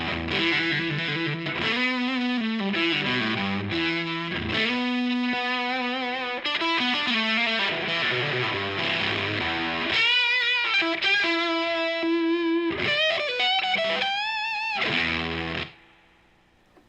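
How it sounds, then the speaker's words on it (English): Electric guitar through an octave fuzz pedal, switched back and forth between plain fuzz and octave fuzz, playing thick, chewy distorted riffs and bends that fill the whole clip before stopping abruptly near the end. "I could literally take that one pedal and then it doubles as a fuzz and an octave fuzz"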